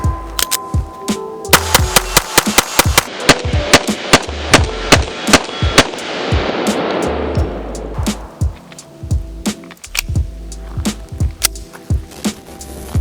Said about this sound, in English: You guys know a test ain't complete without a mag dump.